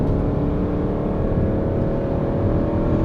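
A Mercedes C63 AMG with the 6.2L engine sends out a loud, steady, close engine roar held at constant revs for about three seconds, with no voices.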